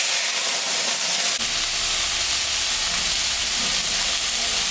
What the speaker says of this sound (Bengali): এখন আমি চাল কুমড়োটা দিয়ে দিলাম